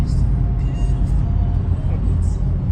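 Steady low road-traffic rumble from cars passing outside an apartment, a continuous near broadband drone with no distinct events.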